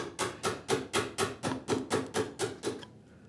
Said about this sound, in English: I'm going with a quarter chisel width now